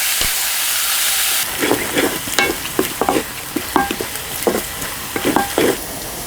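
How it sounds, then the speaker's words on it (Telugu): Sliced ivy gourd pieces frying in a pan with a steady hiss, stirred with a rhythmic series of scraping clinks against the metal, each stir briefly rising over the continuous sizzle. "ఈ దొండకాయ ముక్కలు ఇలా 10 నిమిషాలు వేగాలండి."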